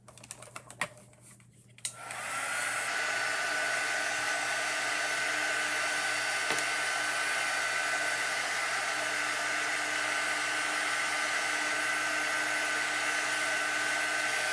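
After a couple of soft clicks, a hair dryer switches on and blows steadily over a shimmery craft project, a loud continuous whirring hiss that runs unbroken to the end.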